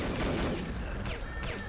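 Dense, continuous gunfire and explosive noise in the shooter game The Operative: No One Lives Forever, a steady roar of rapid shots at low level with a few sharper cracks layered on top.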